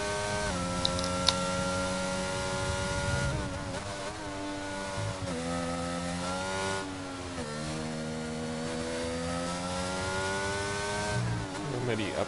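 A race car engine in the sim racing game Automobilista 2 at Belgium, revving up and dropping pitch repeatedly as it shifts through the gears, a continuous loud drone with rising sweeps and sudden falls.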